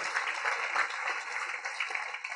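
Audience clapping and applause at a Gujarati religious discourse, a steady dense wash of many hands sustained throughout, moderately loud and without talk.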